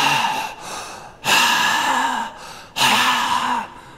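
A man imitates the heavy, rasping breathing of an indecent phone call, two loud drawn-out breaths separated by brief pauses, performed alone as part of a comedy routine.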